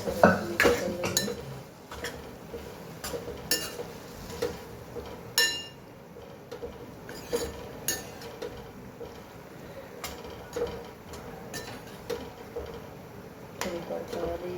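A spoon clinks and scrapes against a cooking pot as masala mixed with soda is stirred, with repeated sharp metallic taps at an irregular rhythm over a low background hum, close and moderately loud.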